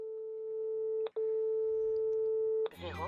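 Outgoing phone call ringing without answer, a steady electronic ring tone that cuts briefly twice and stops, with a burst of other sound at the end.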